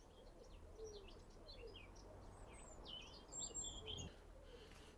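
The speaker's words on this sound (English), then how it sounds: "And a robin." Amid a mixed chorus of birdsong on a wooded coastal slope, a robin sings thin, high, warbling phrases in a steady outdoor stream, moderately distant, with other birds calling faintly around it.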